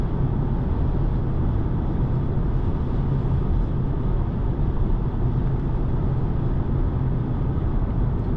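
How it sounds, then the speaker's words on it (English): Steady broadband wind rush around the windows inside a 2025 BMW M235 Gran Coupe on 19-inch wheels at speed, a continuous low roar with no breaks and no voices. "I can hear is like a wind coming from the windows"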